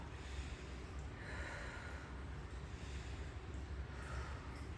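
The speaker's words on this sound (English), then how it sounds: "this is a belly breath" A slow, deep diaphragmatic belly breath, a soft airy inhale and exhale close to the microphone, faint and steady with no talking.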